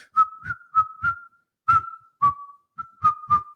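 A person whistles a short melodic phrase in clipped, separate notes with brief pauses between groups, clear and close against silence, with no other sounds.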